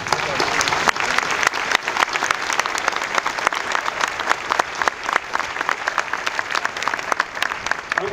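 Large audience applauding at the 2011 Caltech commencement closing, with dense, sustained clapping filling the space at a steady loudness throughout.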